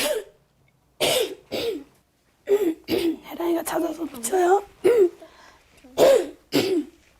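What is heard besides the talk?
coughing and throat clearing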